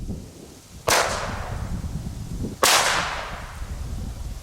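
Two Super Piccolo firecrackers by Hestia explode outdoors, each a loud sharp bang with a crackling tail fading away, about two seconds apart.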